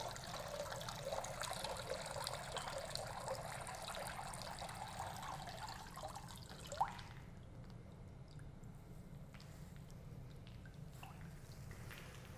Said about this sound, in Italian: Lasciamo scolar via la quantità in eccesso di acqua,